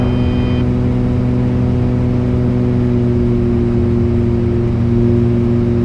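Steady, droning engine hum inside an Aerostar 700 twin-engine airplane in flight, with one engine out and its propeller windmilling, a constant loud tonal rumble with no talk.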